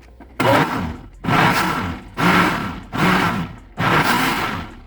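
Blender pulsing to mix flour into a milk cake batter, five loud bursts of whirring motor roughly a second each, separated by short pauses, close and with no talk.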